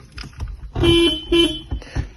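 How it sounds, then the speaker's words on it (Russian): An Audi 80 car horn honks twice, a longer blast then a shorter one, loud and close, with rustling and handling noise around it. "Бибика есть. Бибика робить."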